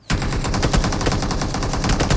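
Rapid, continuous bursts of gunfire crackle loudly and densely, like automatic weapons firing nonstop in a game.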